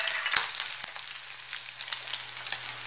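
Noodles tossed into a hot frying pan for street-style chicken and egg triple noodles, giving a steady close sizzle with crackling, scraping bursts as they hit the oil.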